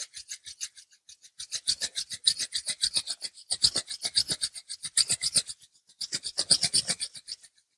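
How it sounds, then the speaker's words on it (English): Palms rubbing briskly together during a yoga session for PTSD, a dry rasping friction in steady rhythmic bursts of strokes, three runs separated by short pauses, close and clear with no talking. "bring your palms together in front of you and stop rubbing them together. Create a friction."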